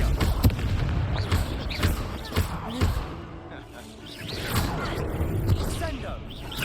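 Confringo blasting-spell explosions in the Hogwarts Legacy video game, with repeated booming bursts in a dense battle mix alongside shouted spell voices.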